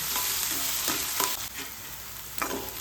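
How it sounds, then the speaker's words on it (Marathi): Sliced onion with a little salt fries in a pan for tomato chutney, a steady soft sizzle broken by several scraping stirs from a spoon, fairly faint and without talk. "मी थोडंसं 1 पाव चमचा मीठ घातले, त्यामुळे कांदा पटकन भाजून येते"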